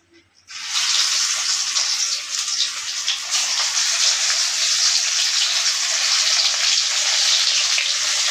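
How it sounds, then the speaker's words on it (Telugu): Dry fish pieces hitting hot oil for deep frying burst into a loud, steady hiss and sizzle that starts abruptly and continues unbroken, close up, with no voice over it. "ఇవి వేపుకుందాం ఆయిల్లో."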